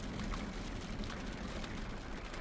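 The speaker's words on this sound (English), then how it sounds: "Winds picked up, rain's picked up, temperature's dropping." Rain falls steadily outside a house with wind picking up on a chilly evening, a constant broadband hiss and patter at low level, unbroken and without voices.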